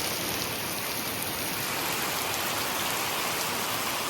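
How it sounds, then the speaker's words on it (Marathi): Heavy rain pours down steadily in a Konkan village, a dense, continuous roar of drops striking surfaces close by, with no voices over it. "पाऊस तर भारीच सुरू झालो आम्ही निघाल्यापासून"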